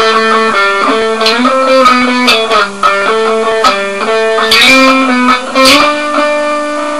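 Distorted electric guitar plays a chugging, repeating riff from a remix, loud and solo with quick note changes and bends.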